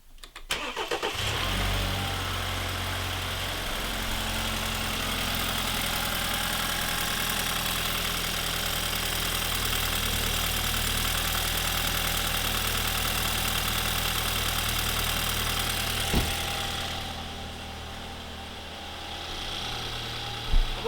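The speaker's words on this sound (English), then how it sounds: "All we have left to do is start the car." A BMW F30 with an N20 engine, freshly fitted with new spark plugs, cranks and catches, then settles into a steady, even idle that runs on close and continuous for about twenty seconds.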